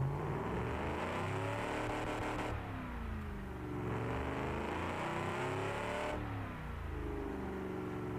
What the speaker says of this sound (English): It's a real growly engine we've got in this.